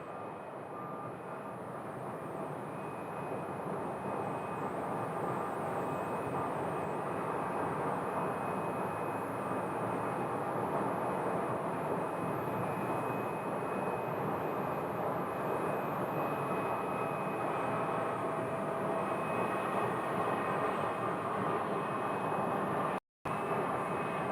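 At Phoenix Sky Harbor airport, an Embraer airliner is towed off the gate amid a steady, continuous roar of aircraft engines that holds at an even level throughout.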